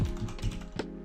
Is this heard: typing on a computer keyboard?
yes